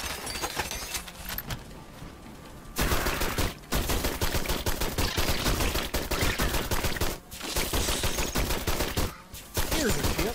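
Rapid gunfire bursts from shooting bugs in the western alien shooter game Dust and Aliens, loud dense volleys broken by brief pauses, with no talking.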